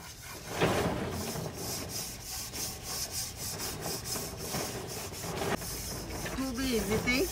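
A cooking pot is scrubbed by hand to lift soot after a picnic, giving repeated rhythmic rasping rubs up close, with a brief voice near the end.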